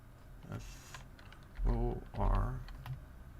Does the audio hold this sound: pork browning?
no